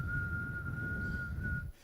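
A single pure sine tone held steady for about one and a half seconds, thin and whistle-like over a faint low background murmur, then cutting off abruptly.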